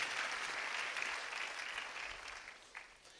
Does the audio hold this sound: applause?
yes